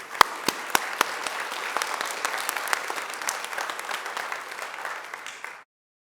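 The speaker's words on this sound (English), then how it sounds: "One more time, applause for them." Audience applause at a Temecula Community Services Commission evening meeting, a steady round of clapping with a few sharp close claps at the start, sustained for about five seconds before cutting off abruptly.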